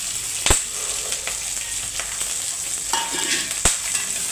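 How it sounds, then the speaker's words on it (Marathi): Peanuts and green chillies roast in a pan, giving a steady dry sizzle with a few sharp spatula clacks, one near the start and one near the end. "आणि ह्याच्यासोबत शेंगदाणे पण भाजणार आहे मी थोडे."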